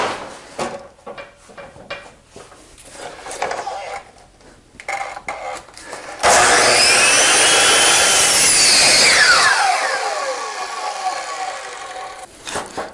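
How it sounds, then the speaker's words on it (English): A hand saw cuts an angle across a wooden pergola joist in a miter box, a sustained loud rasping burst in the middle, preceded by quieter handling knocks and trailing off into softer scraping. "I'm just going to cut this angle on the miter box rather than following the template for that every time"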